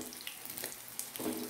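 Danggit (rabbitfish) frying in a pan, a faint, steady sizzle with soft crackles and spatters throughout and a slightly louder burst near the end, heard alone.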